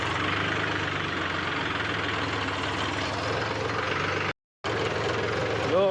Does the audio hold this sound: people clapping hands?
no